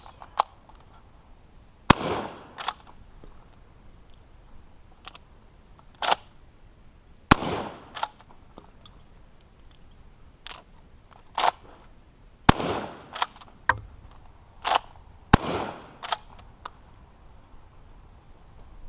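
A Ranger lever-action shotgun firing buckshot in a video game, with sharp blasts spaced a few seconds apart and softer lever clacks between them, close and loud against a quiet background.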